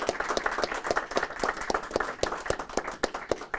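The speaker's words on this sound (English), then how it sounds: "let's give these folks a round of applause" Applause from a news conference audience in Albuquerque, a steady patter of many hands clapping at close range, continuous for a few seconds with no talking.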